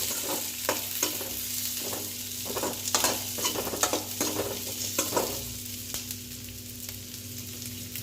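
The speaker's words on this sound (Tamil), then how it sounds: "நான் ஒரு துண்டு அளவுக்கு தேங்காய் கட் பண்ணி வச்சுருக்கேன், அதை சேர்த்து வதக்கிக்கலாம்." Onion and coconut pieces sauté in a pan for a fish curry, steady close sizzling under a string of rhythmic stirring scrapes that thin out toward the end, with no talk.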